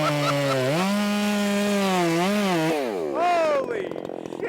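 A ported Makita 6100 chainsaw runs loud and close, its high whining engine note holding steady, then dropping and rising again in a sharp rev before trailing off.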